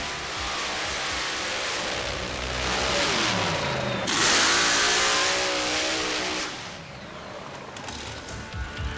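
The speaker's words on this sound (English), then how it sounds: "An all-aluminum 588 cubic inch nitrous burning engine built by Jerry Janke" A mud racer car powered by an all-aluminum 588 cubic inch nitrous-burning engine roars and revs hard, its loud sustained drone rising and falling in pitch as it powers through.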